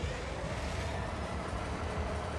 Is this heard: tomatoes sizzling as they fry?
no